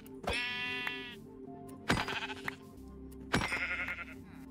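Three separate sheep bleats from the video game Minecraft, each a sharp wavering cry about a second apart, fairly close and alone over a quiet background.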